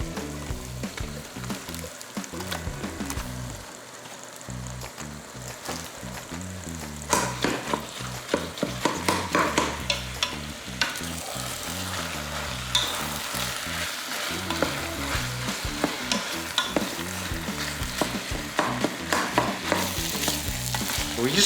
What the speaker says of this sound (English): We just want to brown this. We don't want to cook it. We want to brown it.